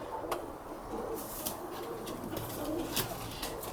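Pigeons coo in a soft, repeated series of low calls, with a few sharper bird notes breaking through the steady background; no one speaks.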